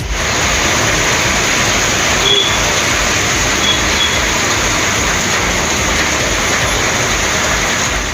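Heavy rain with thunder and lightning in Thoothukudi pours down as a dense, constant, loud hiss that holds steady throughout with no voices.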